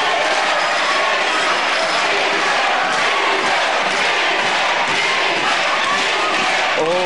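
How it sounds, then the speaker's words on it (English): A World of Sport wrestling crowd in uproar, a dense, sustained roar of cheering and shouting from a packed hall, loud and continuous throughout. "Oh, the crowd love that."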